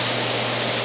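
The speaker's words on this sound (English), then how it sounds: "He just started over there, so he's got a good bit of spray, got to do a few coats." Spray gun applying coats of paint in an enclosed room, a steady close hiss of atomized spray running continuously without pause.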